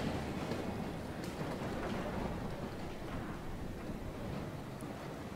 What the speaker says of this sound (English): I think Mark Jefferson's ego just manifested itself into the form of a storm